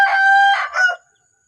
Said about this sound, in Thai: นี่เป็ดไก่ลาว